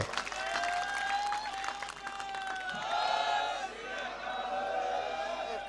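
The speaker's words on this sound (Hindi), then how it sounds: "तुहाडे सारियां लई खुल के तालियां एक बार" Crowd at a farmers' protest at the Ghazipur border near Delhi claps and cheers steadily, a dense wash of applause with voices shouting through it throughout.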